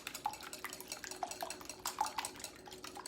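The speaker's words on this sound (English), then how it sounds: "we've got our 5 eggs. We're just gonna whisk, whisk, whisk." Five eggs whisked in a bowl while making keto herbed biscuits, a steady run of rapid clinking and sloshing strokes, close and moderately loud, with no talking.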